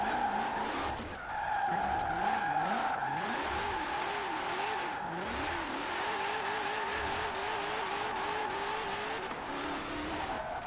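A car engine in Forza Horizon 4 revs up and down in repeated rising sweeps while a high tire squeal runs almost continuously over it, steady and close with no talk.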